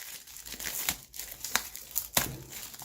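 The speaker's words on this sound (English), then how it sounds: "We'll take the cellophane off." Cellophane wrapping peeled off a Drift Ghost X camera box, crinkling and tearing in several sharp close bursts with brief quiet gaps between.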